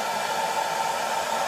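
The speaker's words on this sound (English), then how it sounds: "But I do like the assistance of the blow dryer" A blow dryer runs continuously close by, giving a steady whirring hiss of airflow and motor with no talk over it.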